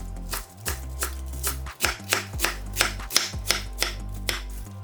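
A knife chops cabbage into 1.5 cm strips on a cutting board, with a steady run of sharp, close blade strikes and board thuds, loud and clear with no talking.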